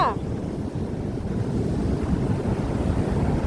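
Strong river current rushing past, a loud, unbroken roaring wash heard up close, with wind buffeting the microphone throughout.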